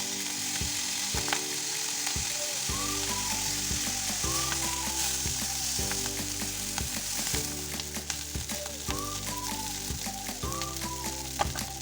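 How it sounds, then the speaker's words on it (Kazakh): Rice and vermicelli fry in hot oil in a pan, a steady dense sizzle lasting throughout, with background music playing along. "Вермишель қуырылып болған соң күрішті салып шамамен 2 минут қуырамыз."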